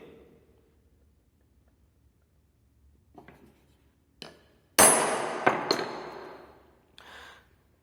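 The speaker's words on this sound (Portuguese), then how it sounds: "Posiciono o punção e bato mais forte." Hammer striking a center punch on metal at crossed layout lines, several light taps followed by one loud ringing blow and a couple of lighter follow-up strikes, close and without talk.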